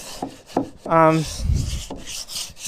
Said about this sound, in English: I'm actually just sanding them